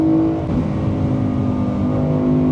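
A BMW E92 M3 engine revs hard on a race track, a loud, steady high-revving drone sustained close by throughout with no talk over it.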